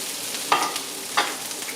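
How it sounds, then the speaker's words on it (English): Pizza ingredients sizzle steadily in a hot pan while caramelizing, with two brief stirring scrapes breaking through the constant hiss. "Nice sizzle."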